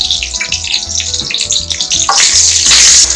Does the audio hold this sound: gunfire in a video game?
no